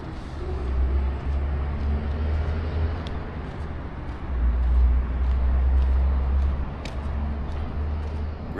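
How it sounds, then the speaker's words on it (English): Low, continuous rumble of city traffic with passing trucks, heard from an elevated spot high above the buildings in Hot Springs, Arkansas; a steady engine drone swells and fades with occasional faint higher clatters. "Really hear the traffic up here. All the trucks."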